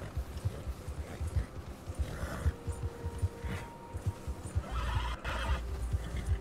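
A horse whinnies and snorts in Red Dead Redemption 2, its neigh rising clearly over a steady rhythm of hoof clip-clops, loud and close, with a harsher burst near the end.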